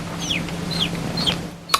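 A person imitates a chicken, giving a run of three short, high clucking calls spaced evenly, close and fairly loud, ending on a sharp click.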